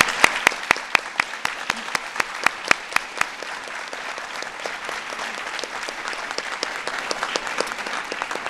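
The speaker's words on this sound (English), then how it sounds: "let's give a big round of applause to all of our military moms here today" Applause for military moms at an honoring event, a steady crowd wash punctuated by sharp, loud nearby claps in a regular beat during the first few seconds, then continuing more evenly.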